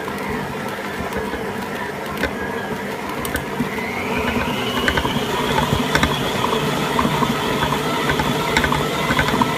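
An electric mixer beats biscuit pistolet batter with a loud, continuous motor whir and gritty churning; the tone rises slightly partway through and stays steady, with no voices.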